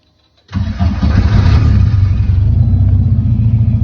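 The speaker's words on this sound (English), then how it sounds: "Okay, cold start, hasn't been started in a while." A kit car replica engine cold-starting after sitting unused for a while: silence, then it catches at once and settles into a loud, steady, rumbling idle close by, with no talk over it.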